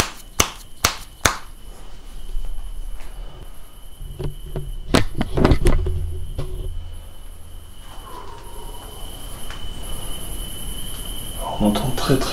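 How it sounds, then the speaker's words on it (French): Crickets chirp in a loud, continuous shrill drone, picked up at night through a handheld sound amplifier, broken by a few sharp clicks and knocks near the microphone. "On entend très très fort les grillons avec l'amplificateur sonore."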